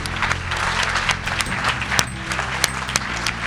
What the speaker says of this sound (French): on les applaudit très très fort tous les 4